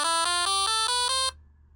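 Twinkle Twinkle Little Star played as a run of bright, buzzy synthesized electronic tones generated by CircuitPython code. The notes are evenly spaced and steady, followed by quiet background hiss, with no talking.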